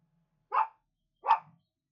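Two separate barks from a pet dog, each short and clear, spaced under a second apart in an otherwise quiet room, fairly close and moderately loud.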